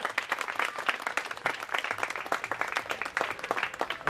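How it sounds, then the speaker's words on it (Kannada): Children clap and applaud together at a birthday celebration in a children's home in Mysore: a steady, dense patter of many hands, moderately loud and continuous, with no voices standing out. "ಎಲ್ಲ ಚಪ್ಪಾಳೆ ಹೊಡಿರಿ"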